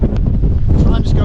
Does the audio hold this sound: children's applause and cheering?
no